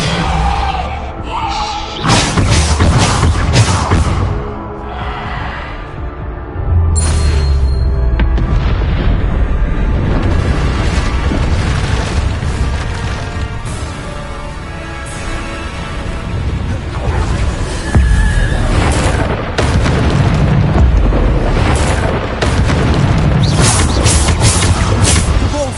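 Bombarda spell blasts from the Hogwarts Legacy video game, a dense run of booming explosions and heavy thuds layered over a continuous loud game score for the whole stretch.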